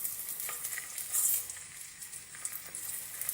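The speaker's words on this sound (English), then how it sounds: "Can you hear that it's frying?" Onion frying in oil in a pot for a bolognese sauce, a steady close sizzle and crackle with soft stirring scrapes throughout and no talk.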